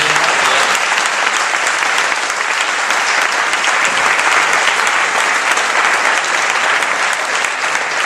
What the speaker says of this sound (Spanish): lo que pido para empezar con buen pie es un aplauso al